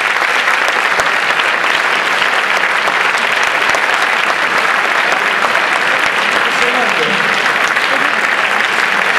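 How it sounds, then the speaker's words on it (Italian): A large concert audience applauds steadily and loudly, a dense wash of clapping that continues without pause. "Un complimento, un grande applauso"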